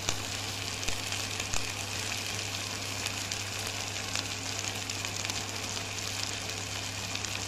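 Curry leaves and green chillies with onion frying in hot oil in a pan while making liver fry, giving a steady, dense sizzle that holds at an even loudness throughout, with no talking.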